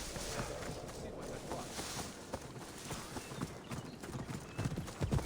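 Hooves clip-clop steadily as a horse is ridden in Assassin's Creed Odyssey, a continuous trotting rhythm over outdoor ambience with a snort or whinny mixed in.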